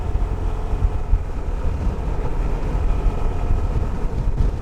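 Steady, heavy wind buffeting rushes across the whole stretch, a continuous low roar with gusty fluctuations, crosswind hitting a rider on an Ariic-318 in motion.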